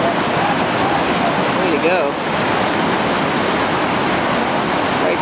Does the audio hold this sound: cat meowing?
no